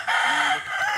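An old rooster on a game farm crows loudly and close by in one sustained, strained call with no voices over it.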